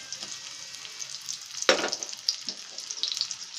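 Garlic frying in hot oil with mustard seeds and cumin, a soft continuous sizzle with one sharper crackling burst midway and smaller pops after, close and fairly quiet.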